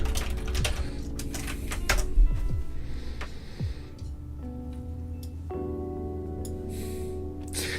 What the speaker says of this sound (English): Artosa keyboard.